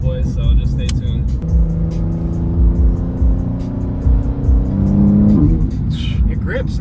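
A car engine revs and climbs in pitch while drifting on a wet road in the rain, a steady rising drone close by, with a person talking over it.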